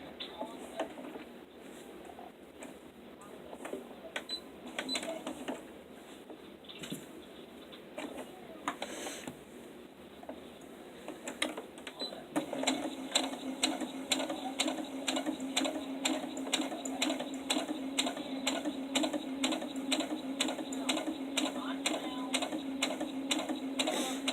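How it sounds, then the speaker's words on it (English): A sewing machine bastes fabric for a sewing caddy, its fast steady needle clatter running the whole time, starting moderate and picking up to a denser, louder rhythm about halfway through. "I'm just basting this down so it'll hold."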